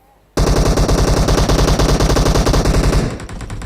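Rapid automatic gunfire in PUBG Mobile, a loud, steady stream of close shots that starts abruptly after a brief quiet moment and runs for about two and a half seconds before cutting off.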